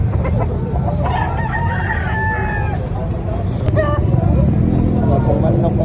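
Roosters crow repeatedly amid the busy din of a chicken market expo at Carbon Public Market in Cebu City, with people talking and haggling throughout.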